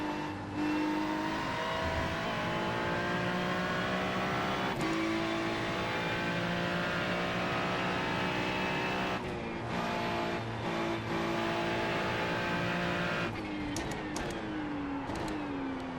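Ferrari race car in a racing video game at Oulton Park, engine droning and revving loudly through gear changes with brief drops between shifts, up close and constant with no speech.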